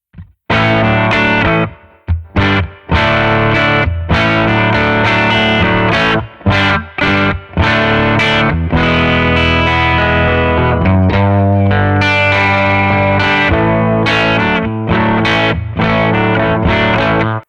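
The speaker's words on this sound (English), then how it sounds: "So now we have our amp, our cab, and our reverb set up." A distorted electric guitar plays loud chords and riffs with a reverb tail, brief pauses between phrases letting the ringing decay.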